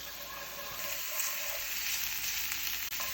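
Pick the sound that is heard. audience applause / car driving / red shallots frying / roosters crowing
red shallots frying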